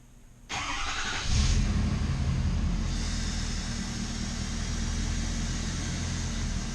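A vehicle engine cranks and catches about half a second in, then settles into a steady, even idle that carries on alone with no talking.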